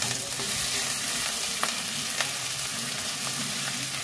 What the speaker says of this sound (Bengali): এবার আমি আদাটা দিয়ে দেবো